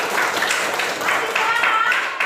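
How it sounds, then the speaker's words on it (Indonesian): A classroom of students claps together in a dense, continuous patter of hands that stays fairly loud and even for a couple of seconds. "Tepuk tangan dulu semua"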